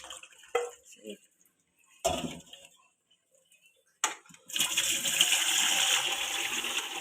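A few sharp clunks and knocks, then a sudden rush of water pouring out steadily, close and fairly loud, as boiled macaroni and potatoes are drained through a strainer.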